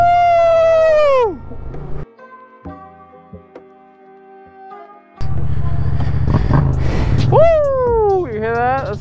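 A Yamaha FZ-07 motorcycle engine revs hard up close, its pitch swooping sharply up and down. A quieter idling stretch follows, then another loud burst of revving as voices talk nearby.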